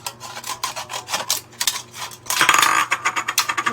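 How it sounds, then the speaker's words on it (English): Scissors cut through thin aluminum from a drink can, trimming off a damaged piece with a quick series of close, crisp, scraping snips that grow louder and denser toward the end. "I am just going to cut the damaged part off."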